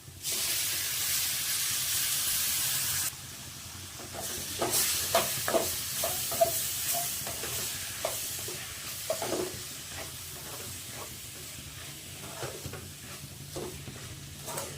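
Hot oil sizzles and hisses steadily as chopped tomatoes fry for a crab pepper gravy, with a louder spray at first, then crackling pops and occasional stirring scrapes.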